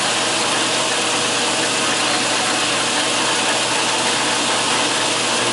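A lathe running slowly in back gear while reaming a bore, giving a steady, dense machine hum with a low tonal drone and a continuous broadband whir that holds level throughout, with no talking.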